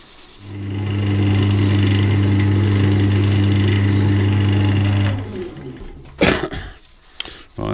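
An oak and walnut pen spins on a lathe while being sanded with 600 grit. A steady droning hum runs for about five seconds, then stops, followed by scattered rustling and handling noises.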